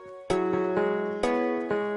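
Fortnite music blocks play a short pattern of synthetic square-wave notes, a few bright tones starting in sequence with sustained pitches, clean and alone.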